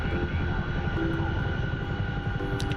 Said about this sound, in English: flying this big heavy-ass Chinook's gonna be rough